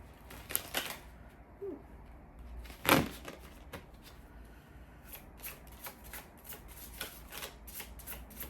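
A deck of spirit animal oracle cards is shuffled by hand, giving soft riffling bursts and a louder central ruffle, then a steady patter of quick card flicks close up and without talk.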